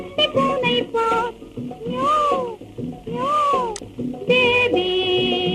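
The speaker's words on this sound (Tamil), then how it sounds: "இதோ குட்டி பூனை பார்" Kitten-like meows rise and fall in two long sliding calls within a 1940s–1960s Tamil radio song, mixed with plucked music and short tonal notes.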